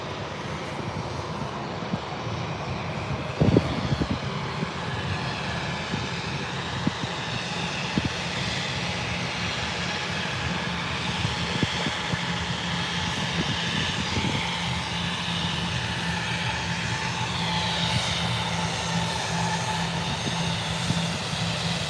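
Lufthansa airliner in Star Alliance livery taxiing at Birmingham airport, a steady broadband engine rumble and whine holding throughout, with a few sharp knocks and thumps near the start, no voices.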